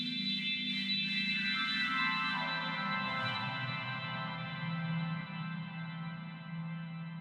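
Sustained harmonic tones from a fractal filter with reverb applied, layered ringing partials gliding downward over a steady low drone, smooth and washy with a long echoing tail, no voices.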